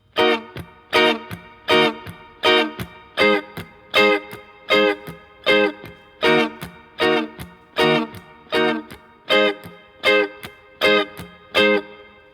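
Electric guitar plays chords from a song through effects, about twenty evenly spaced staccato strums in a steady rhythm, each one bright and clipped short, up close and alone with no voice.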